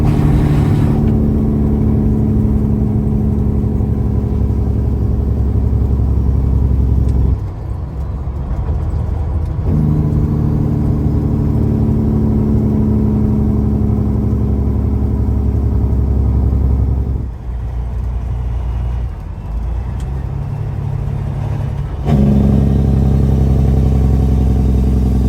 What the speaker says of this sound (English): So the old Detroit break-in begins now.